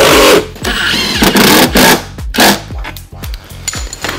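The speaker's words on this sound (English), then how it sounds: "So now that it's square and it's straight, I'm gonna tighten my other bolts." Bolts on a hitch receiver bracket being tightened with a wrench or ratchet: a rapid series of sharp metallic clicks and clanks in irregular bursts, close and loud, with brief pauses between strokes.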